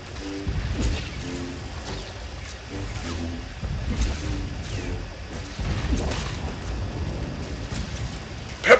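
Pebble rain ability effect from Star Wars: The Old Republic, a steady rumbling patter like heavy rain on stone with repeated low thuds, filling the whole stretch at close range and ending in a sharper burst.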